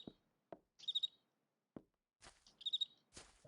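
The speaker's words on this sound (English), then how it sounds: "The bird is not an actual physical thing. It emits the sound somewhere, so it's somewhere on this tree, I guess." Ambient bird chirps in the video game Might and Magic IX, two quick trilling bursts set among soft clicks and taps, faint and sparse.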